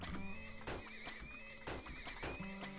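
Horses in the TurmOil video game whinny loudly in repeated calls over a soft clip-clop of hooves, with no voices.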